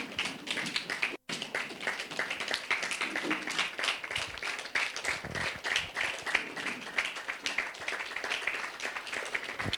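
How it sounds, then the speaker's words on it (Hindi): Applause from an audience at a spiritual gathering, a fairly dense patter of clapping with rhythmic, tap-like beats that runs steadily throughout at moderate loudness, broken by one brief dropout near the start. "जोरदार तालियों के साथ"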